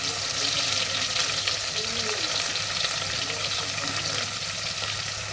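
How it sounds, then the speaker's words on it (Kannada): Chillies and onions frying in hot oil, a steady close sizzle with faint stirring throughout. "ಮೆಣಸಿನ್ಕಾಯಿ ಹಾಕಿ ಉಳ್ಳಾಗಡ್ಡಿ ಸ್ವಲ್ಪ ಬ್ರೌನ್ ಕಲರಿಗೆ ಬರಬೇಕು ನೋಡಿ, ಅಲ್ಲಿವರೆಗೂ ಫ್ರೈ ಮಾಡ್ಕೊಳ್ಳಿ"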